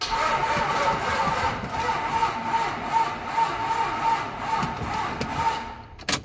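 A stock 12 valve engine cranks repeatedly with a steady rhythmic churning but never catches, then stops abruptly near the end.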